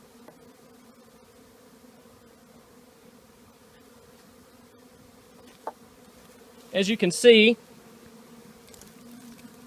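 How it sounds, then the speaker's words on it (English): A low, steady buzz of honey bees hums faintly in the background as frames are moved from a nuc box into a deep hive box, with a voice briefly speaking over it. "this is still full of bees"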